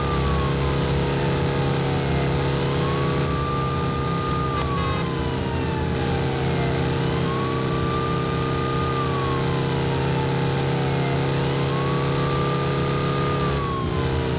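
A Renault Clio police car in an Android driving simulator game accelerates, its engine holding a loud, steady drone while a wailing siren rises and falls in long, repeating sweeps.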